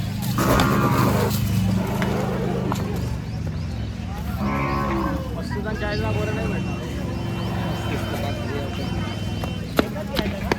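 At a busy cattle and bullock market in Chalisgaon, calves and cattle low nearby, with one clear drawn-out moo among other calls, while people talk constantly over the market bustle.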